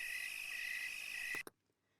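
Crickets chirp in a dense, steady high trill, played as a nighttime stage sound effect, then cut off abruptly near the end, leaving near silence.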